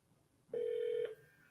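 A single steady telephone ringing tone sounds once for about half a second, loud and clean against a quiet line.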